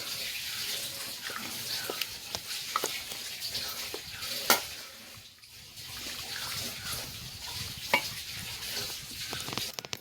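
Cooked amaranth leaves mashed for kadayal, with soft wet squelching and stirring strokes plus occasional clinks of the utensil against the pot, close and quiet, broken by a brief lull midway.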